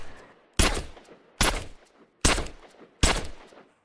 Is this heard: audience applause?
no